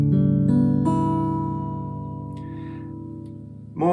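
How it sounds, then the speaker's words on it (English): Guitar strings just tuned, plucked in succession: a few note attacks ring together and decay slowly into a sustained chord, close and fairly quiet, with a fresh pluck near the end. "So it should sound like this when you pluck them all."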